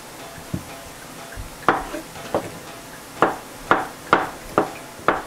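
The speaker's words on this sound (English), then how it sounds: "The last ingredient to the quinoa is cutting up an avocado and throwing it in there" A knife cuts up an avocado for a quinoa dinner dish. About seven crisp, close taps of the blade land on a cutting board at an uneven pace, with quiet gaps in between.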